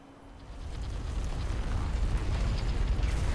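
A geyser eruption in the game Contrast, a rushing, roaring blast of spray that swells from quiet and holds steady and loud to the end.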